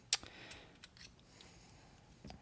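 The bit driver on a Leatherman Free P4 multitool retracts, pops out and locks, making a few faint, sharp clicks spaced out against near silence.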